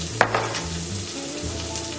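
Red snapper fillets fry in a pan partway through cooking, a soft continuous sizzle with a brief sharp crackle near the start and a low hum beneath.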